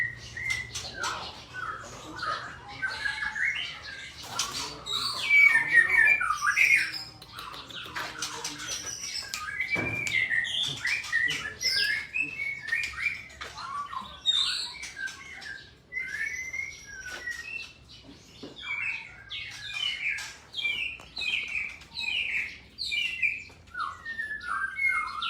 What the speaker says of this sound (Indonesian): yang banyak khasnya ini murai batu